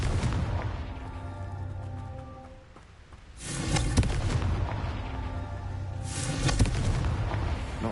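Confringo fire spell explosions in Hogwarts Legacy, two loud booming blasts a few seconds apart, each with a sharp crackling onset and rumbling tail over continuous low game noise.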